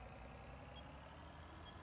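Two short, faint electronic beeps from a video game John Deere tractor's hazard light signal sound about a second apart over a low, steady tractor engine drone in Farming Simulator 19.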